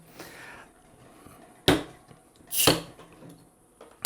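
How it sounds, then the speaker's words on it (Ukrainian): A bottle of stout beer being opened and poured, heard as two sharp bursts a second apart, the first a crisp cap release and the second a fuller gush, over a quiet room background. "відкриваємо, наливаємо."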